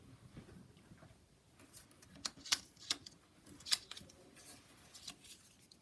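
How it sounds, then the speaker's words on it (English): Scissors fussy cut around a Christmas card in a quiet room, giving a handful of sharp, close snips with brief pauses between them and no talking. "scissors"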